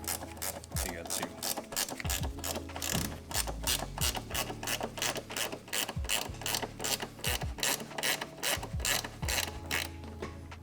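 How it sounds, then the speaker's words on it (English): A ratcheting wrench loosens a bolt on the rear suspension of a BMW E60 M5 during a lowering-spring install, giving a close run of crisp, evenly spaced clicks in repeated strokes with brief pauses between them. "Usually this back one here, gotta use like a ratcheting wrench to get to."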